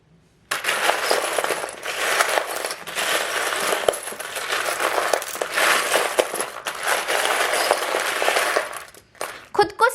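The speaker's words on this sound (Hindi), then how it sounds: "अब आपके जो चार्म्स है मेरी जान, वो भी देख लेते हैं। चलिए शफल करते हैं।" Oracle charm pieces shuffled for a Leo weekly reading, a steady clinking, rattling jumble of small hard objects lasting most of the stretch, close and fairly loud, ending with a few separate knocks.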